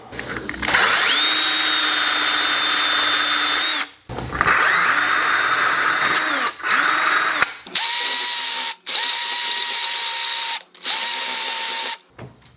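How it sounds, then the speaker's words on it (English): A hand drill whines loudly with a wire wheel scrubbing rust off a bicycle's metal parts, running in several long bursts separated by short pauses. "I'm going to go for the wire wheel on the hand drill"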